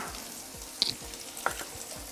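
Chopped green and red chilies with a little chopped tomato sizzle steadily in a pan as they are stirred, with a couple of sharp clinks of the utensil against the pan and no voices.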